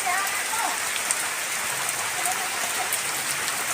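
Steady rain pours down in a dense, even hiss that does not change across the clip. It sounds near and fairly loud, while people play outside in the downpour.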